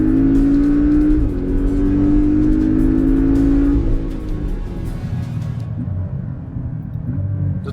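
Porsche 718 Cayman S engine revving loudly under load while driving and drifting, with rising and falling pitch as the revs climb, then a lower rumble as the throttle eases.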